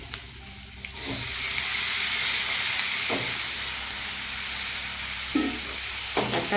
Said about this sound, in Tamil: பாருங்கள், வெங்காயம் தக்காளி நல்லா வதங்கிடுச்சு